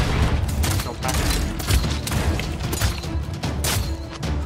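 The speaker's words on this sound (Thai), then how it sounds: "ใครยิงวะบนหลังคาบนหลังคา" Rapid gunfire crackles through a Realm Royale firefight as a shooter fires down from a rooftop, with dense repeated shots and booms layered over constant game noise and faint voices.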